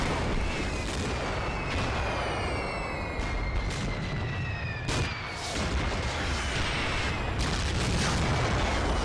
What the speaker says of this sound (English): We have a bombardment going on.